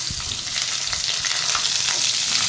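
A bay leaf frying in hot oil for cauliflower kurma, a loud, close, continuous crackling sizzle with small popping bursts throughout and no speech.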